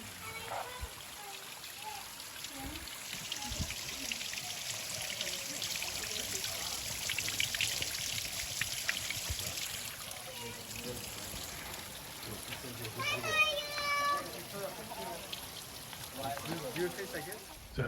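Eternal Flame Falls, a waterfall, gives a continuous rushing, splashing wash of falling water heard from nearby, with faint voices and a brief chirping sound partway through.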